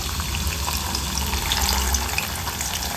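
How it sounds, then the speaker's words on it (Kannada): Field beans (avarekalu) frying in hot oil inside a mesh strainer, giving a steady, dense sizzling hiss that holds evenly throughout without pause. "ಜಾಲರಿನ ಈ ಥರ ಇಟ್ಟು ಸ್ವಲ್ಪ ಸ್ವಲ್ಪ ಅವರೆಕಾಳು ಹಾಕ್ಕೊಂಡು ಫ್ರೈ ಮಾಡ್ಕೋಬೇಕು"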